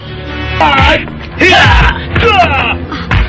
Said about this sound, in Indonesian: Aku yakin itu teriakan Kakang Kameswara dan Ken Arok